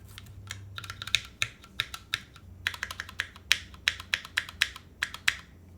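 Keyboard switches clack as keys are typed ahead of a Nixie switch being soldered in, a string of crisp, close taps in uneven bursts over a faint low hum.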